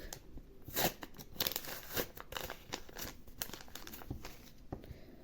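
A paper surprise packet is opened close up with crisp crinkling and tearing, coming in irregular bursts with sharper crackles among them, and no talking.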